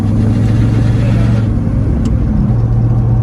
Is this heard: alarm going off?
no